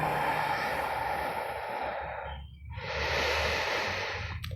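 During a yoga class, a long, breathy exhale flows out steadily and close, then there is a brief pause and a second long breath, with no talk over it.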